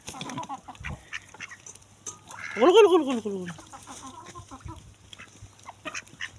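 A rooster gives a single short call midway through, close by, amid outdoor background noise and a brief spoken word from a person nearby.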